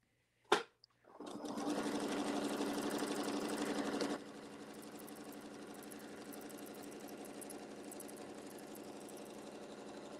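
A sewing machine stitching slowly along a quilt edge near the seam allowance: a sharp click, then a steady close mechanical whirr for a few seconds before it drops to a quieter continuous hum.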